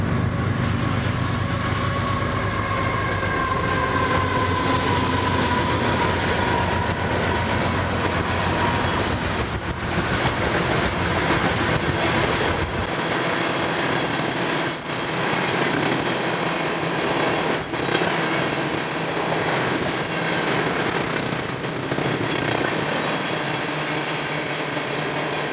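Union Pacific locomotive UP 7470 leads freight train OSJWU through South Jordan, Utah, with a loud, steady rumble and the ongoing rattle of cars rolling by for the whole stretch.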